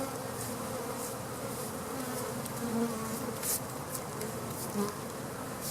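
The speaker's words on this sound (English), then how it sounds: "Had a couple of them going at me, so I'm gonna give them some smoke. Brush the rest of these bees off." Honey bees buzz steadily and close, a dense droning hum with individual bees swelling louder as they pass near, no voices.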